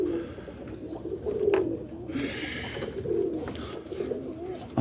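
Roller pigeons coo softly in a loft, low murmuring calls repeating at a moderate distance over a quiet room background.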